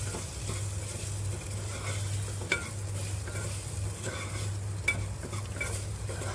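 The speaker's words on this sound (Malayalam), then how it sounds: "എന്നിട്ട് നന്നായിട്ട് ഇളക്കി കൊടുക്കാം." Spiced onion and chilli-flake mixture being stirred in a pan for a beef dish, a steady sizzle with soft scraping and a couple of sharper spoon knocks against the pan, close and continuous.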